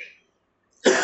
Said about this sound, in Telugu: నాకు బాగా దగ్గు వస్తుంది కదా